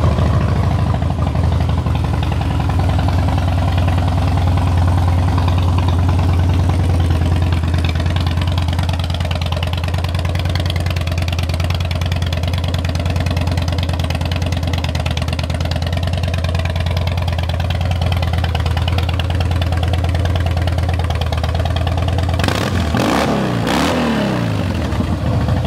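A 2010 Harley-Davidson Heritage Softail motorcycle idles in neutral with a steady, loud, low throb for over twenty seconds, then a couple of quick throttle revs rise and fall near the end.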